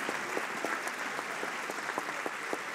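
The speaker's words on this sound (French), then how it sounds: "On peut les applaudir, bravo." An audience applauds students from the Camille Corot vocational high school in Saint-Lô, a soft, somewhat distant patter of clapping with a few sharper individual claps standing out.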